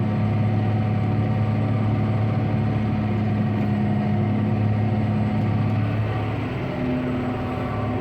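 A John Deere 8400 tractor engine drones steadily under load while working ground on a frosty morning at about six miles an hour, a continuous low rumble with a constant hum throughout.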